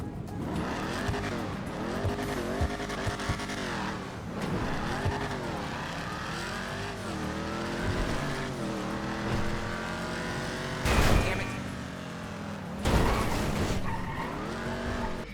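Ruiner 2000 muscle car in GTA Online, its engine roaring through repeated revving and gear changes with tire squeals and a couple of sharp bursts, loud and continuous with no talking.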